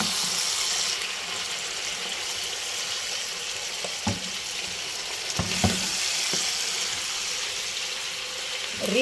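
Chicken fajita strips fry over high heat in a pan, giving a constant close sizzle broken by a few clanks of stirring. No one speaks.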